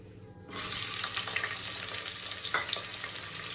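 Onions hit hot oil in a pan for chicken biryani, bursting into a loud, steady sizzle that crackles on without pause and with no voices.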